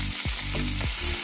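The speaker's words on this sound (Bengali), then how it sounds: "মাছ আমার মোটামুটি ভাজা হয়ে গেছে" Fish frying in a pan after the lid is lifted, for a mustard-coconut prawn dish, gives a steady close sizzle with a few sharp stirring scrapes over about a second, no talking.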